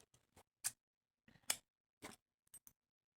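Scissors snipping crochet yarn, about five short crisp cuts at an uneven pace, close and fairly quiet, with silence between the snips and no talking.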